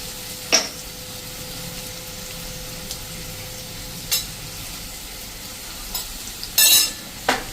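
Ridge gourd curry stirred in a pan over a medium flame, a soft steady sizzle with a few sharp spoon scrapes and clinks scattered across it, no voices.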